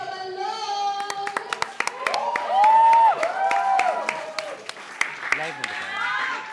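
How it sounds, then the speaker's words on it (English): Spectators at the women's open finals of the 2023 Boulder Nationals in the Philippines applaud climber Jen Cabalong, with sharp claps that grow into a lively burst mixed with cheering, shouting voices and talk throughout. "let's give a round of applause to Jen Cabalong!"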